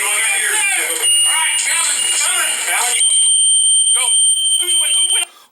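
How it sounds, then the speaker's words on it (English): High-pitched electronic alarms beep and shrill continuously during a SWAT search-warrant entry, loud and insistent, while people talk and shout over them before the sound cuts off near the end. "When these alarms start going off, very distracting."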